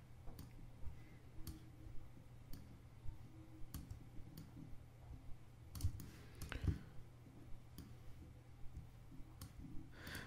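Computer mouse clicks while drawing with the pen tool in Illustrator, a sparse irregular series of sharp close clicks, about a dozen, with a few quick double clicks amid faint room noise.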